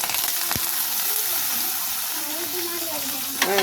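Garlic and dal fry in oil in a pan for idli kaara chutney, a continuous close sizzle with a brief sharp crackle, as a voice speaks faintly underneath.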